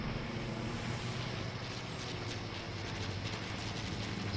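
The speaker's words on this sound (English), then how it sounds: "I just keep hearing planes around this area" Airplanes flying overhead in the battle royale game Fortnite, in a wintry area, a loud continuous engine roar and rumble holding steady throughout.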